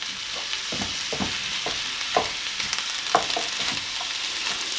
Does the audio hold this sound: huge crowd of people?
no